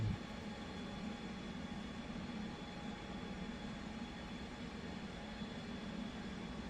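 A simulated F/A-18 jet in the DCS flight combat game produces a steady, low, unbroken drone. It stays faint and even from start to finish, with no speech.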